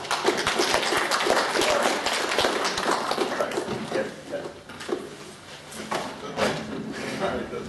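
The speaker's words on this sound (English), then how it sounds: "let's give a round of applause" An audience in a lecture room applauds a volunteer, with brisk mixed clapping from many hands that runs for several seconds, dips midway, then swells again before fading, with some voices among the claps.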